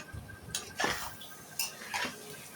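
Chicken being stirred with readymix biryani masala in a metal pot, with scattered scraping and clinking of a spoon against the pot in a few distinct bursts, no talking.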